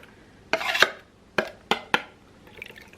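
Chopped onion and garlic tumbling into a crockpot over canned tomatoes, a few close, distinct soft wet plops and clatters in quick succession, with a faint scrape at the end.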